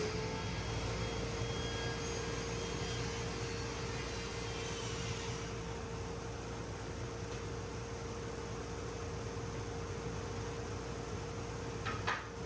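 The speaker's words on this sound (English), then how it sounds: "Now we will put this on the table saw" A table saw running through a wooden board for a walking cane makes a loud, steady whine and broadband roar throughout, ending in a brief clatter, with no speech.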